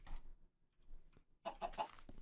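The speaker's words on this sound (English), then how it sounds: "2 chickens in here is insane" Chickens in the Minecraft Beta 1.7.3 video game give a few soft, brief clucks, a faint one at first and a clearer little burst near the end against quiet background.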